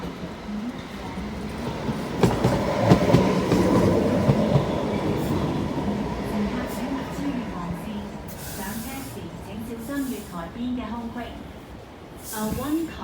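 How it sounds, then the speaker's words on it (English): A one-car Route 751 light rail train rumbles and clatters into a platform near Tuen Mun, steady and fairly close, while an announcer's voice speaks over the noise. "one-car Route 751 train to Yaoi is arriving at platform 2"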